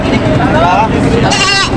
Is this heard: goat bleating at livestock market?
yes